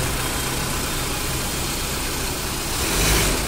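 Toyota Innova Crysta engine idling in a workshop after a clutch overhaul, a steady, even rumble close by that swells slightly near the end, with no talking.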